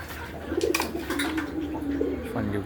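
Newly acquired pigeons cooing close by, a few low soft coos repeating over steady background noise, with no talking.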